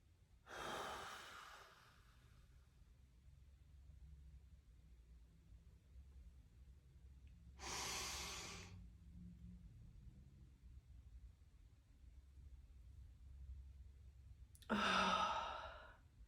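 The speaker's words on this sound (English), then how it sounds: "Breathing in, breathing out, and breathing back in again." Three long, slow breaths taken to cure hiccups, each a soft airy rush several seconds apart, close to the microphone over a low steady hum.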